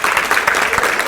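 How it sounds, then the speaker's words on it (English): Brief burst of loud, close audience clapping at a high school graduation ceremony for Hmong students, a dense rattle of many hands at even volume. "let's give him a big hand of applause."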